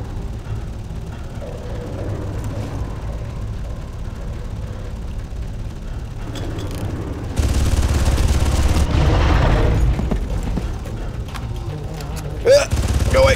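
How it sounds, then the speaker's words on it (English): A grenade explosion in the Far Cry video game, a broad loud blast rising suddenly around the middle and rumbling for a couple of seconds over steady game noise, with a sharper bang near the end. "Let's throw an actual grenade at him."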